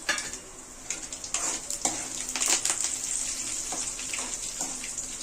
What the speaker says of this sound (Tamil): ஒரு கடாயை அடுப்பில் வச்சு எண்ணெய் வந்து ஊற்றி வச்சுருக்கேன் இதில் வந்து நம்ம தாளிப்புக்கு தேவையான ஐட்டம் சேர்த்துடலாம்